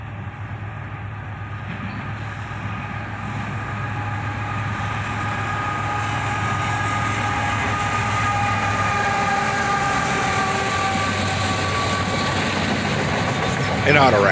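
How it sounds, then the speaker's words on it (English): A CSX auto rack freight train led by a single ET44AH locomotive passes, with a loud rumbling diesel drone and rolling railcar noise that builds steadily, ending with a burst of louder rail sound. "An auto rack train, led by a single ET44AH."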